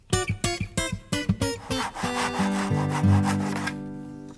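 Power saw cutting a curve in wood: a run of sharp rhythmic rasping strokes, then a continuous higher-pitched buzzing cut with shifting tone, close and loud, no talk.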